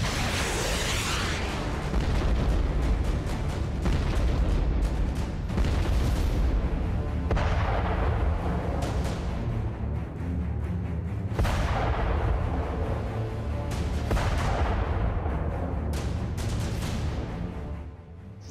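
Explosions and artillery fire from the war in Ukraine sound as a series of heavy booms and sharp blasts, several spaced a few seconds apart over a constant rumbling background, loud with no talking.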